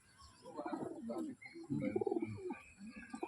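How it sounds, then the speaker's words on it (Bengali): Flying-breed pigeons kept at a home loft coo in a few soft, throaty bursts, fairly close and moderately quiet, with brief pauses between calls and no talking. "এই কটা আমার সব উড়ারই পায়রা"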